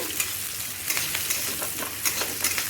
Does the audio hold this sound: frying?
yes